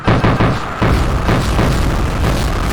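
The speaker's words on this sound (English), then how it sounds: "at one point the cannons went absolutely apeshit." Loud, continuous barrage of deep booms and blasts from cannons in the game Backyard Cannons, overlapping rapidly with no pauses.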